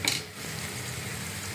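Soya chunks roast with chilli powder and salt in a pan, giving a steady close sizzle and frying hiss with a brief clink at the start and no talking.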